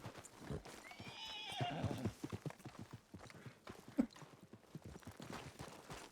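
A horse neighs in the video game WildRP, a shrill whinny early on, followed by steady clip-clop hoofbeats in a quick rhythm, moderately close and clear.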